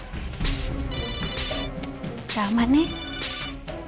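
A mobile phone ringtone plays in a scene from an Odia TV serial, with a melodic electronic tune mixed with background music while people talk over it.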